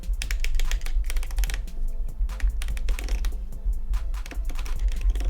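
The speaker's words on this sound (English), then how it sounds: "Here's the sound that's coming from the Deluxe Audio Strap." The adjustment knob on an Oculus Quest Deluxe Audio Strap is turned in dense, rapid ratcheting clicks, close and fairly loud, coming in quick runs with brief pauses between.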